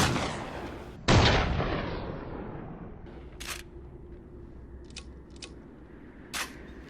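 A double-barrel shotgun fires in Resident Evil 7, one loud close blast that decays slowly, followed by a few short sharp clicks and clacks of handling.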